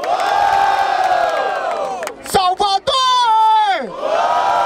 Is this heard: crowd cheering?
yes